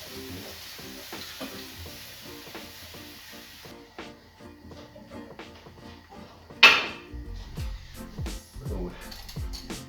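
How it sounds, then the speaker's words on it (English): Beef stock stirred into cooked flour in a pan, with a soft sizzle and scraping spoon strokes, a sudden pour-like burst midway, then continued stirring; a voice speaks over it. "just stir in some beef stock."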